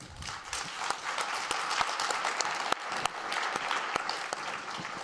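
Sustained audience applause fills a conference hall at the opening plenary of an education event, dense steady clapping from a large crowd with a few sharper individual claps standing out, no talking over it.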